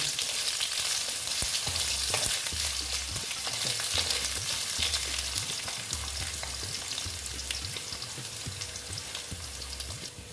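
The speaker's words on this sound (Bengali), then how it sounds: "আলুগুলো দিয়ে আলুগুলো আমি ভালো মতো ভেজে নেব" Potatoes sizzle in a pan of hot oil for a Bengali kolmi shak chorchori, with a steady close crackle and rhythmic scraping from stirring. No one speaks over the frying.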